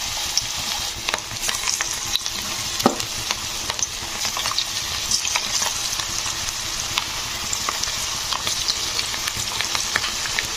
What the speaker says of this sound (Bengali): তো এবারে আমি পকোড়াগুলো ভাজবো। তো ছোট ছোট করে দিয়ে দিচ্ছি।